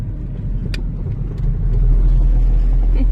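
A car driving along a road, a close steady engine and road rumble that swells louder partway through, with no talk.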